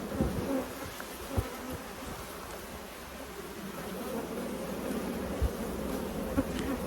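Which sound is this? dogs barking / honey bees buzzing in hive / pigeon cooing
honey bees buzzing in hive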